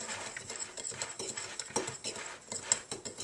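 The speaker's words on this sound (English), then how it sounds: "Now stir that all up." A spoon stirs apple pie filling in a bowl, making soft, quick scraping and clinking strokes up close at a low, even level.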